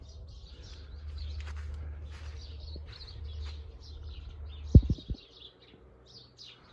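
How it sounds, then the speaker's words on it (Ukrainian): Faint sparrows chirp and twitter repeatedly in the distance at sunrise in the countryside, over a low background hum, with a brief soft thump partway through. "А пташки, як виспівують горобці"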